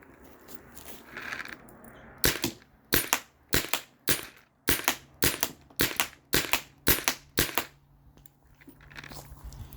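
A Spyder Rodeo paintball marker fires about ten rounds in a steady rhythm, each shot a sharp, loud, close pop separated by short pauses, with faint background noise between shots.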